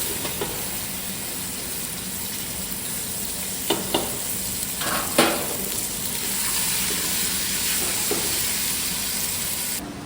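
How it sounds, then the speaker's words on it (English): Pork chunks browning in a hot pan for chile verde sizzle loudly and continuously, with a few sharper crackles and pops breaking through the steady hiss. "I'm going to add my pork and brown on all sides or until some of the fat is rendered out of it"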